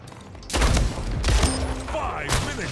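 Gunfire from the video game Splitgate comes in loud, dense bursts of rapid shots and thuds, with a voice speaking intermittently underneath.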